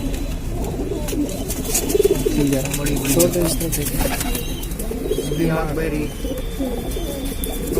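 Domestic pigeons at a long-kept home loft in Lucknow coo repeatedly in low, rolling phrases, with scattered chirps and occasional wing sounds, under steady nearby conversation.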